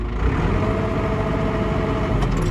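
Machine engine held around 900 RPM while the joystick is pulled fully back to lift, a steady, close, rumbling drone with a faint tonal whine over the short stretch.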